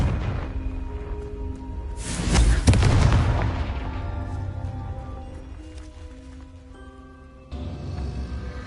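A Confringo spell explodes in Hogwarts Legacy with a single loud booming blast that rumbles and fades over several seconds over steady game ambience.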